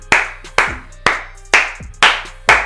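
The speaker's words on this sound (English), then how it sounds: "Sorry for clapping so loudly" One person claps hands loudly six times at an even, unhurried pace, in celebration of Panama qualifying for the World Cup; each clap is sharp and close, with brief silence between.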